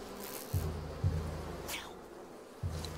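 Bees buzz in the medieval setting of the video game A Plague Tale: Requiem, a faint steady droning hum with low thumps and soft ambient noise.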